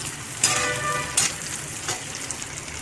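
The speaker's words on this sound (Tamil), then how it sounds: "பச்சை மிளகாய், அதை நம்ம ஆட் பண்ணிக்கலாம். ஆட் பண்ணி வதக்கிக்கலாம்." Chopped green chillies sauté with onions in a pan for chilli chicken under a steady, moderate sizzle, with three brief stirring scrapes spaced about a second apart.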